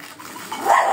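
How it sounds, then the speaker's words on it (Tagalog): A dog barks from next door in a home kitchen setting, a short burst that grows louder toward the end, moderately near, with no talk over it. "Galit yung aso."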